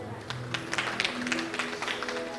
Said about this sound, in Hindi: एक बार अपने आप में ताली बजाइए।